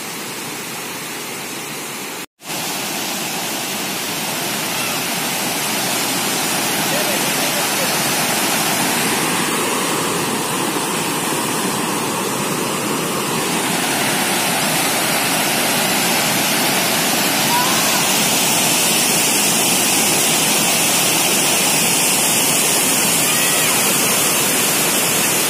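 Falgu river water rushes steadily beside a village near Gaya, Bihar, a loud, broad, continuous flowing roar after a brief dropout near the start, unbroken and uniform throughout with no voices over it.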